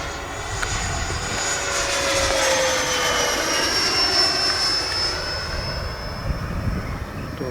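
A 3D-printed Boeing 727 model jet runs down a runway with a steady, loud turbine whine and roar. A rising high tone holds throughout the clip with no talk.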